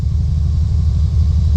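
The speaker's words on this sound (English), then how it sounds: "So the compressor's running right now." A 1977-80 Corvette engine idles with its AC compressor engaged, a steady, loud, close-up low rumble that holds an even throb throughout with no revving.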